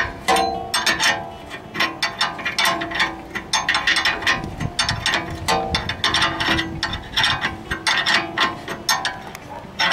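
Metallic ratcheting clicks and clanks come in quick repeated bursts as a hub part is turned with pliers on a 2000 BMW X5 during bearing and hub replacement, loud and close with no talk.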